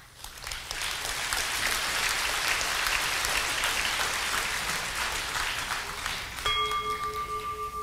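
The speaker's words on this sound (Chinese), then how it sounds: "我们也以热烈掌声欢迎所有的贵宾。" A large audience at a Buddhist fire puja ceremony claps in a dense, steady wash of applause. Near the end, clear ringing bell-like tones cut in as the clapping carries on.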